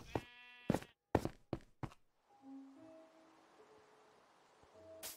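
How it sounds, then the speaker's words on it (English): A few loud, wavering Minecraft sheep bleats close by, followed by quieter thuds and faint rustling in the background. "That sounds like a sheep."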